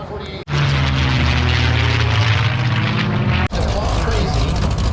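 A CH-148 military helicopter hovers close by at the Boundary Bay Airshow, its loud, continuous rotor and turbine roar steady throughout apart from two brief dropouts.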